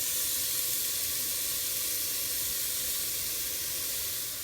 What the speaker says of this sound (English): we are going to slightly saute it with a spatula like this